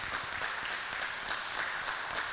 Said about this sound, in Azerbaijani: bu həftə ən çox SMS göndərən və ballar toplayan iştirakçılarımızı ürəkdən alqışlayırıq burada